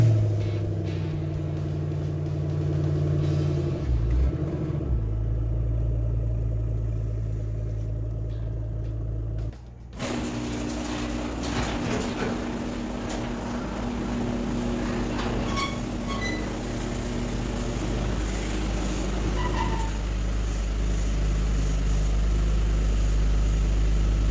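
A wrecked Mustang GT's engine cranks and settles into a steady, deep idling rumble, with a brief pause before it runs on as the car is moved into a garage.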